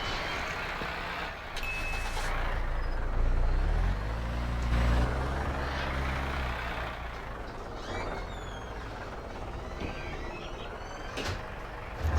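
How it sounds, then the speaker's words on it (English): A fire truck rumbles past with a low, swelling engine drone that peaks and fades, an air brake hiss cutting in sharply near the start and again near the end. "Oh, look at the fire truck."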